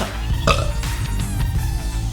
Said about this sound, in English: that was one of those burps that totally caught me off guard